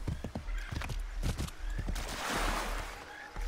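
Hooves of a horse in Assassin's Creed III clop in an uneven, close series, then give way to a breathy snort or short whinny near the end.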